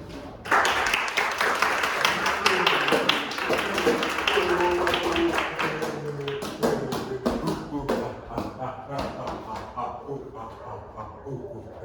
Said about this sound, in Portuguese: recebam com muitas palmas o homem primitivo